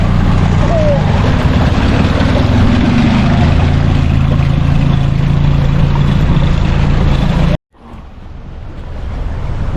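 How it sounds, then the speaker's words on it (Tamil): A garbage collection boat's engine drones loud and close on a Venice canal under talk, then cuts out sharply before a fainter rumble slowly returns. "வெனிஸில் போட்டில் வந்து குப்பை அதாவது இந்த வெனிஸை க்ளீன் பண்ணுறாங்க குப்பை எடுக்கிறாங்க"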